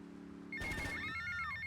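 A phone rings in Grand Theft Auto: Vice City, an electronic ringtone that starts abruptly after a low steady background hum and repeats as bright, regular trilling tones over the game's ambient sound.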